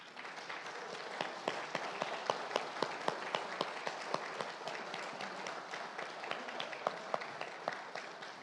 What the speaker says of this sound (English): let us greet them with a round of applause for their service